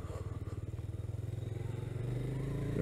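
A Jawa motorcycle's engine pulses with a steady, fast, deep throb during a test ride, heard close and rising slightly in pitch near the end.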